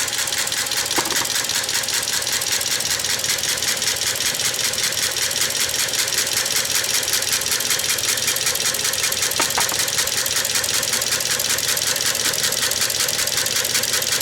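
A 1908 Matheson engine with make-and-break ignition runs steadily with a dense, even mechanical chatter that stays loud and continuous throughout, with no talk.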